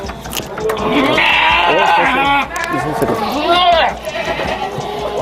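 Goat bleating repeatedly while being held for a teeth check to judge its age before Eid al-Adha sacrifice, loud and close, with people talking over and around the calls.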